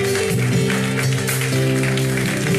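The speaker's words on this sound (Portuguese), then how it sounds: "Aplauda Ele porque Ele é digno." A congregation claps steadily through a worship service, a dense spread of hands over sustained organ-like music.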